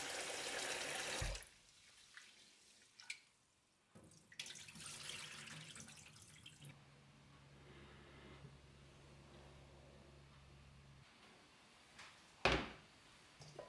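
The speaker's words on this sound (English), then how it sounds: "the most important thing with rice is to rinse it thoroughly" Running tap water splashes steadily over rice grains in a bowl as they are rinsed, with a few clatters and a sharp knock partway through; no voices.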